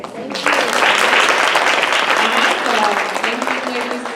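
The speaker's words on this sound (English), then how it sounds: "let's give Sandra a round of applause" An audience at a women's business conference applauds loudly and steadily for several seconds, a dense sustained clapping with a voice faintly heard underneath.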